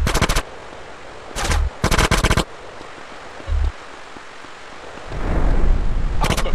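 Bursts of automatic gunfire in GTA San Andreas, several sharp rapid volleys close by, separated by quiet gaps, ending in a rushing wave-like noise with no talk.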